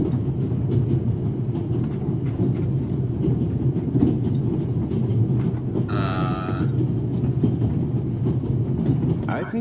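A train runs on its rails with a steady, loud rumble throughout, while voices speak over it and a brief higher tone cuts in midway.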